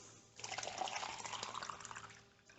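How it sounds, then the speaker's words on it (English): A pitcher filling with water from a tap, meant for rehydrating alfalfa pellets: a steady, close trickling stream that starts abruptly and keeps going before cutting off. "Just fill it up with water."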